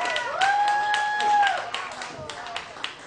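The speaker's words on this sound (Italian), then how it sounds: "Fatemi un bel applauso!" Audience applause at a live music show breaks out as scattered claps mixed with a raised voice and crowd noise, moderately loud and continuing in short bursts.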